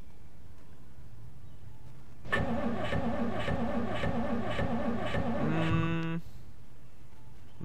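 A car engine in the survival game Project Zomboid cranks with the key, a loud steady rhythmic churning of repeated starter pulses for about four seconds that ends without the motor catching, with no talk over it.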